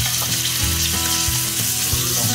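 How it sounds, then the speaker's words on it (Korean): Meat stir-fries in plenty of oil in a gas-heated frying pan, a loud continuous close sizzle with faint rhythmic stirring thumps underneath and no talking. "넣고 살살 볶아주세요."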